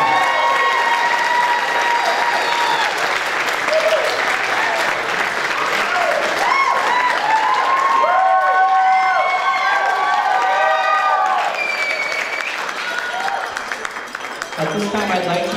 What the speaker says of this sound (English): Let's have a round of applause for Andrew and Sylvia.